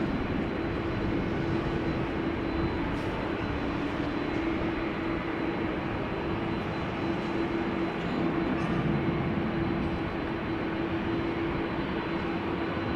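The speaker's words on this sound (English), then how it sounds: "Delta A330 engines overpowering everything that you're hearing" Jet engines of a Delta Airbus A330 at rainy Amsterdam Schiphol Airport give a steady, loud broadband roar with a constant whine running through it, unbroken for the whole stretch and without any voices.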